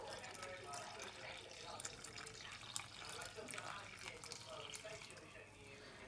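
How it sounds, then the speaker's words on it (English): Lukewarm water is poured into a bowl of focaccia dough ingredients, a faint, steady trickle and splash with a soft voice talking over it. "I'll add 350 millilitres of lukewarm water, not cold, lukewarm, and then pour that in"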